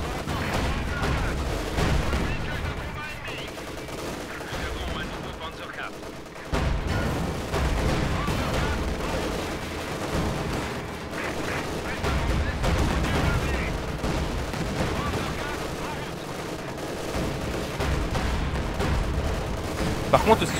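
Panzer IV tank cannon fire in the World War II strategy game Company of Heroes 2, heavy booming shots and continuous battle gunfire rolling beneath a voice, with a brief lull before the firing resumes.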